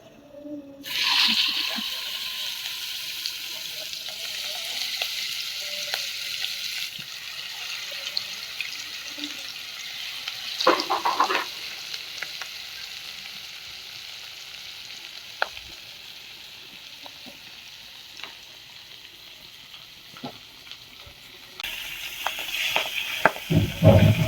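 Pangas fish fritters frying in hot oil in a wok, a steady close sizzle with occasional stirring clatter, growing louder and busier near the end.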